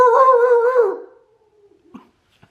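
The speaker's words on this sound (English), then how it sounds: "Do you guys hear my neighbor dog?" A neighbor's dog lets out one long, loud, wavering howl lasting about a second, then fades into near silence broken by two faint clicks.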